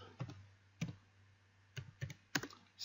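A handful of soft keystrokes tap on a computer keyboard while a command is entered, quiet and close, in small irregular clusters.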